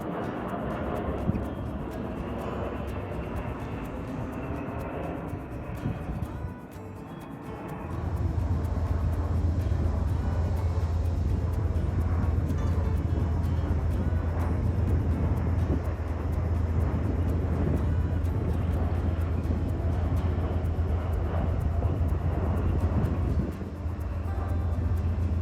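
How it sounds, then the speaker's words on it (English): A US Air Force KC-135 Stratotanker flies touch-and-go runs at Albuquerque International Sunport, heard as a steady, broad jet roar that swells and holds loud for most of the stretch, with a deep low drone underneath. "In the skies above, U.S. Air Force KC-135 Stratotanker 59er-1501 performs a couple touch-and-go runs in and out of Albuquerque International Sunport."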